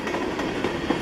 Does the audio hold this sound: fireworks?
no